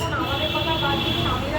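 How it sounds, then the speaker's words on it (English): A short train sound effect plays for about a second and a half: a steady rumbling hum with sustained tonal, whistle-like bands on top. "It's actually train, but metro and thing is same."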